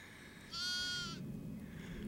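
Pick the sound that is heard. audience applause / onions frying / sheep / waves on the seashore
sheep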